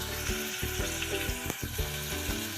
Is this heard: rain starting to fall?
no